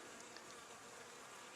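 Agitated honey bees hum and buzz around a hive in a dense, steady drone with a few louder passes near the microphone. The sound is quiet, brief and unbroken, with no voices.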